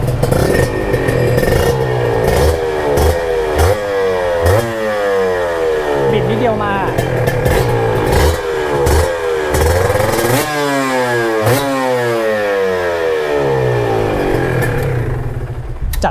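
A Yamaha FSX150 motorcycle engine revs repeatedly with the throttle, rising and falling pitch sweeps in close, loud bursts over a steady idle, with someone talking at times.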